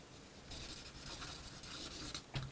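A pen scratches across paper in quick strokes and loops, close and fairly quiet, ending with a short sharper flourish.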